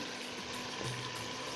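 Chicken pieces frying in hot oil after the water has cooked off, a steady close sizzle and crackle throughout, with no talking.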